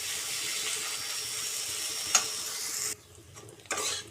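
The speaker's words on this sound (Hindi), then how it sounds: "मसला को मझे मझे एमती चलाउथिबा।" Masala for a desi-style chicken curry being stirred in a pan over a medium flame, a quiet continuous sizzle with soft scraping that drops away near the end before a brief scrape returns.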